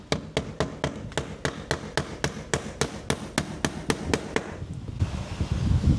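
Hammer blows drive nails through vinyl J channel over foam board, evenly spaced sharp strikes repeating steadily at close range. They stop about five seconds in, leaving handling noise.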